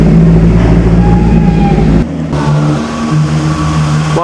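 A vintage Bandini racing car passes on the Mille Miglia road rally with a loud, close, throaty engine roar that drops abruptly partway through. A lighter, higher-pitched engine note carries on afterward.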